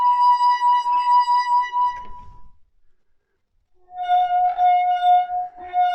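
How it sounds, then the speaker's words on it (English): A wine glass partly filled with water is rubbed to ring a pure, sustained note. The tone stops, a short quiet gap follows, and a second slightly lower note rings out, loud and clear. "There's definitely a different note there because of the shape of the glass, and there would be maybe a little bit more water in this one."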